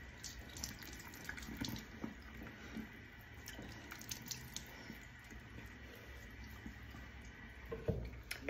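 Tap water runs steadily into a bathroom sink while a face is rinsed clean of cleanser and makeup, with soft splashes and a few small drips over a continuous hiss.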